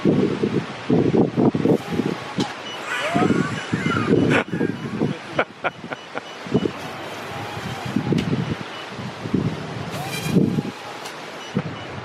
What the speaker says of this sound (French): Puis il se met à venter super fort.